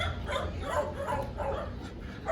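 A few dogs bark and yelp at a middle distance, the barks coming in a loose repeating rhythm against steady outdoor background noise.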